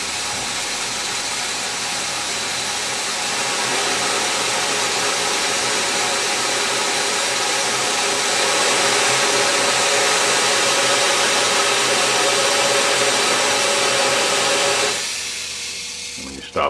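A rotating-casing elevator feeds corn cob material, a continuous loud whirring rush that builds slightly as it speeds up, then drops away near the end.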